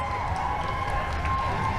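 Outdoor crowd at the Victoria Pride Parade gives steady, distant cheering and a constant roar of many voices, with a faint whistle-like tone running through it.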